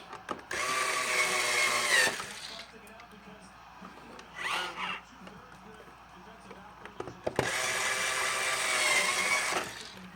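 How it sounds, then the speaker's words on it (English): Two larger screws being driven back into the corners of a device during a battery replacement, a whirring power screwdriver running in two long bursts with a short rattle between them. "we're going to put the two larger screws back in here, in these corners."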